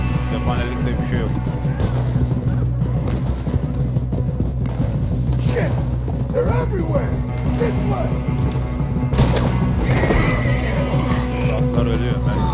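Horses neighing and whinnying in the Red Dead Redemption 2 video game, several calls rising over a dense, steady game soundscape that carries on throughout.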